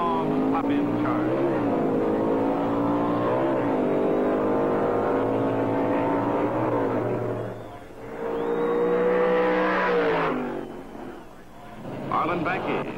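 Drag racing cars, a Plymouth Roadrunner and a Mustang, roar with loud engine revs and rising acceleration sweeps, the noise dipping briefly before surging again, all under continuous narration.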